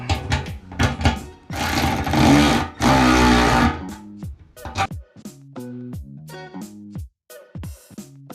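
A power tool drives home the bolts on a fuel cell install in a K20 AWD Civic, with a couple of loud, sustained bursts followed by sparse, sharp clicks and short mechanical whirs in near-silence.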